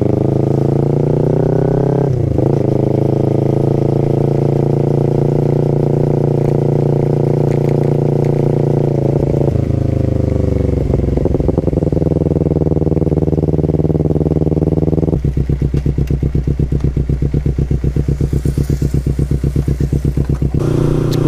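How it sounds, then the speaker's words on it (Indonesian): Kawasaki Ninja 250 FI motorcycle after a chain gearset replacement, its exhaust running close and loud with steady idle and several revs rising and falling, then a rapid, choppy exhaust pulse toward the end, with no talking. "Udah pure tinggal suara si knalpot."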